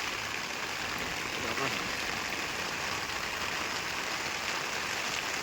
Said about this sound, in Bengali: সব দিকে বৃষ্টি।